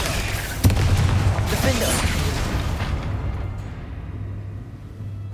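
Magic spell explosions from Bombarda and Confringo in the Hogwarts Legacy video game, a sudden booming blast followed by a rumbling, fading roar, with a voice speaking near the start.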